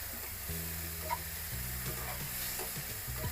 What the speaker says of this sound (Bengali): এখানে দিব হলুদ, দিব লবণ, তারপরে ভালো করে মিশিয়ে দিতে হবে।